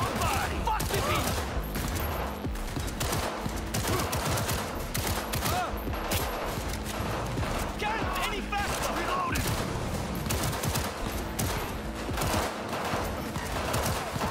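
Gunshots in the Cyberpunk video game, a sustained barrage of rapid, loud shots and bursts layered over game noise, with voices talking amid the firefight.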